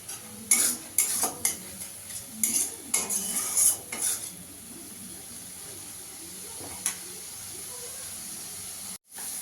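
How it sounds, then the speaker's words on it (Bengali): Spice paste (masala) is stir-fried in a pan. Sharp metallic scrapes and clinks of a spoon come in quick bursts over a soft sizzle, then fade to a low hiss with an occasional stroke, close by, with no talking. "ভালো করে মশলাটা কষানো গেছে,"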